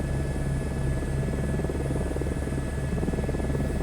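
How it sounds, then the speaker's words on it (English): Helicopter idling on a helipad in Microsoft Flight Simulator 2024, a steady close rotor and turbine drone with rhythmic blade pulsing throughout, loud and alone with no voices. "let's just turn the chopper around while we wait for clearance"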